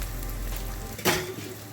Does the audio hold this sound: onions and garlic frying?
yes